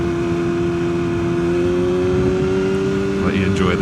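Yamaha R6 sport motorcycle engine running at a steady, loud drone with a slight rise in pitch, close and continuous, with a brief higher whine near the end.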